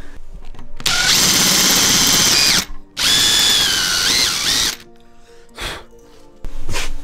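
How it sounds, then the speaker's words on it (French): A power drill drives screws to fix an LED profile rail inside a van, running in two long loud whining bursts with rising and falling pitch, then shorter brief spurts. "une fois que c'est fraisé, on visse le profil tout le long"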